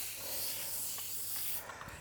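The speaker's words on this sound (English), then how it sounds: "Give it a quick spray with a non-stick spray" A quick hissing burst of non-stick cooking spray coats a loaf tin, a steady close airy spray lasting about a second and a half before stopping.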